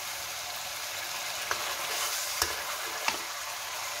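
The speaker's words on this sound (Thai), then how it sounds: "ยายจะผัดเครื่องก่อนเนาะนะคะ" Ingredients being stir-fried with oyster sauce and sugar sizzle steadily and loudly in an oiled pan, with a few sharp scrapes and knocks of the spatula against the pan breaking through the continuous frying hiss.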